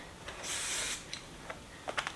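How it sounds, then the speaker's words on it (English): Kenra working hairspray goes onto a section of hair in one soft hiss lasting about half a second, followed by a few faint clicks and taps. "I'm going to go ahead and take my working spray from Kenra, and I'm going to go ahead and spray my section"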